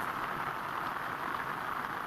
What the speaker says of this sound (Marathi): भाजी काढली पण आता पाऊस सुरू झाला